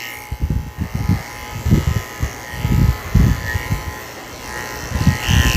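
Electric pet grooming clippers fitted with a 4 blade buzz steadily while trimming a Goldendoodle's coat, with a loud, close hum that keeps pulsing and lifting in short bursts as the clipper moves through the fur.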